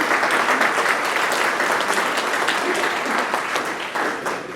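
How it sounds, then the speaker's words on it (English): A ceremony audience at a Hall of Fame induction gives steady, full applause for the spouses, a dense crowd of clappers sustained for several seconds and tapering off at the end. "Can you give them a round of applause?"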